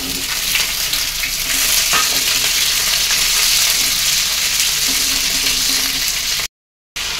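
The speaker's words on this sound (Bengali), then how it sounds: "এবার এই কুঁদরিগুলো 5 থেকে 7 মিনিট মতন আমি ভেজে নেবো।" Ivy gourd (kundri) fries in hot oil in a pan, a steady, loud, close sizzle and crackle with occasional stirring, running continuously until a brief gap near the end.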